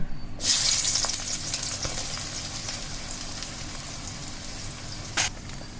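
Chopped onions hit hot oil with a loud burst of sizzling that settles into a steady crackling fry, with a brief clink partway through.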